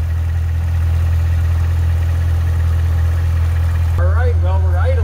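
A Corvette Z06 Stingray engine idles after an AMSOIL 0W-40 oil change, a loud, steady low hum, with a person talking over it near the end.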